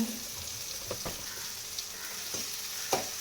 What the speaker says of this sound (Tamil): இப்போ அரைச்சி வச்சிருக்கிற தக்காளி ஊற்றிப்போம்